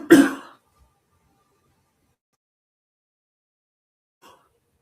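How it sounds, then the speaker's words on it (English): A single loud, close throat clear with a short cough burst right at the start, then near silence, with a faint brief sound near the end. "I still need to cough."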